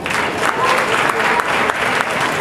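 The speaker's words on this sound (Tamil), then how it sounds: "கைத்தட்டுங்க." Audience applause at a Tamil Sangam event, a dense, steady clapping from a full hall that keeps up at even strength throughout with a few sharper claps poking out.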